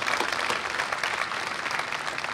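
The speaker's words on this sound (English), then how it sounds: "Give them a round of applause, please." Audience at a university graduation ceremony applauding, a short burst of dense, steady clapping from a large crowd filling the hall.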